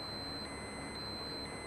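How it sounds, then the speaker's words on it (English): In Farming Simulator 19, a vehicle that has lost all power sounds an alarm, a thin steady high-pitched tone over a dense wash of engine and background noise, with no speech. "I've lost all power and we've got this alarm going off"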